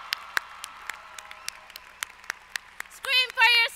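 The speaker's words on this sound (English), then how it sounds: "can I get a big, big, big round of applause for the class of 2016?" Scattered, fairly distant applause from a graduation crowd for the class of 2016, with sparse separate claps, followed by loud close cheering and whooping voices at the end.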